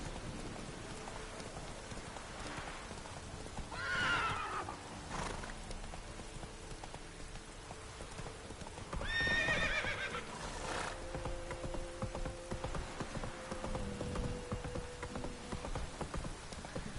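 Roach, a horse in a video game, whinnies twice in the rain, high neighs rising over a constant patter of raindrops and soft hoof clops, with low ambient game music underneath.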